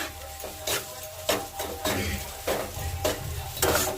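Potato and peas stirred in a pan with turmeric and salt, repeated scraping strokes of a spatula roughly every half second over a low sizzle, close and without talk.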